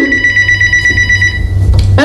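A telephone rings loudly and continuously in a home, with a steady electronic tone over low background hum and a brief rustle near the end.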